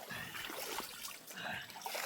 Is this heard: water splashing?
yes